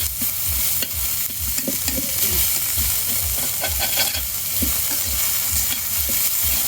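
Onions and dried chapa shutki sizzle and hiss in a hot wok while a spatula stirs and taps against the metal in a steady rhythm, loud and close.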